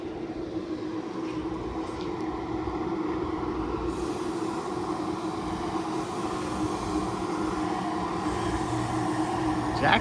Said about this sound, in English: this is what the train looks like when it stops and lets us off for a few minutes